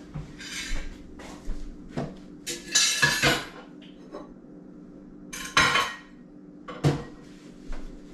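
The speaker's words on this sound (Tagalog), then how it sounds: "Focus muna tayo pinggan mga boss." Dishes, plates and cutlery clatter and clink during washing, with irregular bursts of knocks and scrapes set close over a steady low hum.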